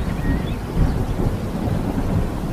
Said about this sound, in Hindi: तभी तेज बारिश शुरू हो गई